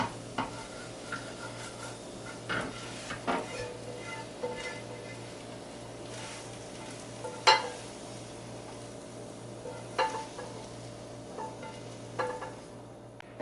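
Scrambled eggs sizzle steadily in a pan on the stove, with a spatula scraping and clinking against the metal every few seconds.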